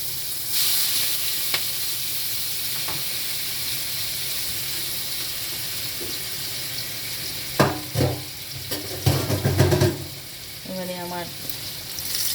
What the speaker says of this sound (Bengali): চিংড়ি মাছের তা ভাজা বসিয়ে দিচ্ছি